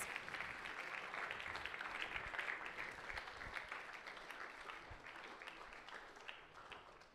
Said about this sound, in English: go ahead and give him a big round of applause